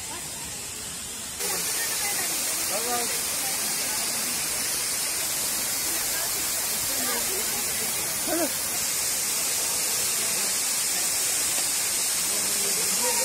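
Saattale waterfall in Dang, Nepal, rushing in a loud, continuous roar of falling water that cuts in abruptly after a short quieter moment, with faint voices barely audible underneath.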